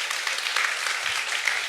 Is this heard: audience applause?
yes